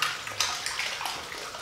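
Water is poured into wallpaper paste while it is stirred in a container, making a close, steady sloshing, splashing wash with a few brief knocks throughout.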